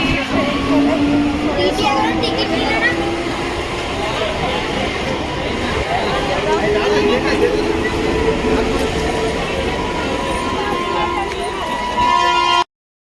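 A crowded passenger train rumbles along with a continuous loud rolling roar and droning tones, while people talk and call over it throughout.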